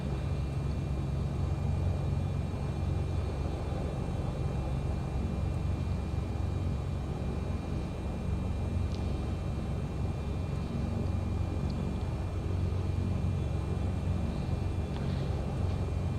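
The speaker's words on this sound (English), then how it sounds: "So runway 32 has us taken off towards the northwest" An airplane taking off from runway 32, heading northwest, on a flight from Nagasaki toward Hiroshima: a steady, continuous low engine rumble holds for the whole stretch, loud and even with no voices.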